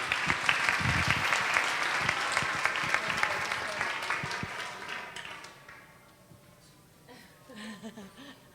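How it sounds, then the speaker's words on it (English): Audience applause at a 2007 leadership gala, a steady wash of clapping that fades out past midway, followed by quieter room sound and a faint voice near the end. "please give her an applause at any rate"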